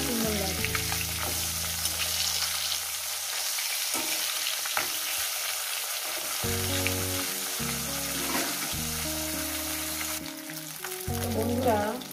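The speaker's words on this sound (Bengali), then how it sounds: "মাছগুলোকে আমি উঠিয়ে পাল্টে সুন্দর করে ভেজে নিয়েছি" Katla fish pieces frying in hot oil in a pan, a loud steady sizzle broken by scraping and clatter as the pieces are lifted and turned, with tonal hum in the background and no voices.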